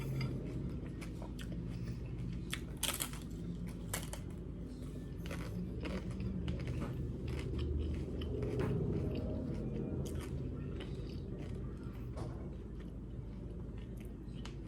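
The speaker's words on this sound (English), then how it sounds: "The crunch of the cabbage, the crunch of the radish, get a spoonful of everything in there." Close chewing and crunching on a spoonful of pozole topped with cabbage and radish, with irregular crisp bites and wet mastication sounds, near and intimate, with no talking.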